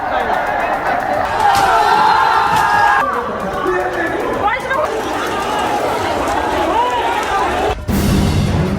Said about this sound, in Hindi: जंतर मंतर पर प्रदर्शन, भीड़, नारेबाजी और फिर हिंसा।